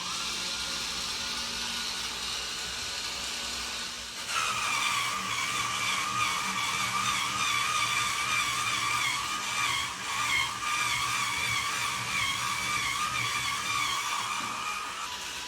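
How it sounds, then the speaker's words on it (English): Powered cleaning gadget spinning a stiff nylon brush against plastic, a steady whirring motor that turns into a loud, harsh scrubbing whine once the bristles make contact, continuous and close. "once it makes contact with this real stiff nylon brush on this plastic, it is going to get loud"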